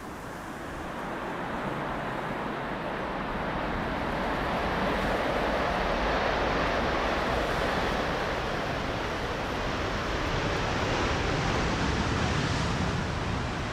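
A jet airliner landing in a crosswind at Amsterdam Schiphol's Polderbaan, a loud broadband roar swelling over a few seconds and holding steady as the aircraft passes nearby, with no voices.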